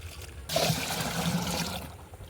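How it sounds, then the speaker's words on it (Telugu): Muddy reddish canal water is poured into a drum for making liquid jivamrutham on an organic vegetable farm, giving a close, rushing splash that lasts just over a second and then stops. "ఈ డబ్బా మొత్తం వాటర్తో నింపుకోవాలి."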